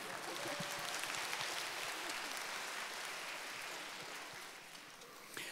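A lecture audience claps continuously for several seconds: a soft, dense wash of applause from a crowded hall that eases slightly toward the end.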